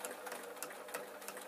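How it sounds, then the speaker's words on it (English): A sewing machine with loosened tension stitches around a placed picture on an art quilt, giving a steady, fairly quiet mechanical whir with faint rhythmic ticks throughout. "And then I have the job of just literally sewing round."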